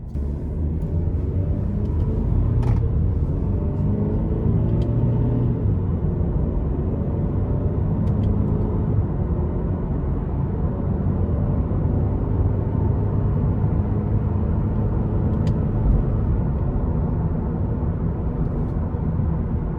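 A 2025 Cadillac CT4 Sport with a 2.0-liter turbo four-cylinder and ten-speed automatic hums and rumbles steadily from inside the cabin while cruising, with road noise and no talking.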